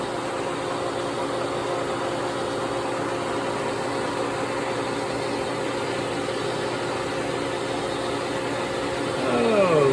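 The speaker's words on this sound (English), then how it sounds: "We'll let the cutter feed all the way off the part, and then we'll stop the machine" Milling machine cutter feeding steadily off the corner of an A2 tool steel blank, a constant droning motor and cutting hum throughout, with a rising whine near the end as the machine changes.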